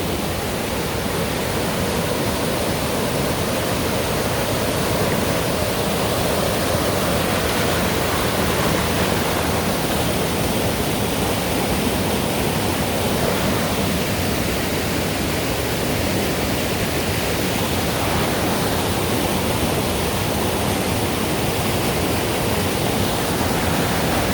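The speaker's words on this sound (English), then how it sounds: "I like to hang out by the rocks and listen to the river" A river in Vilcabamba, Ecuador, rushes over rocks in a loud, steady, unbroken wash of water noise heard up close, with no voices.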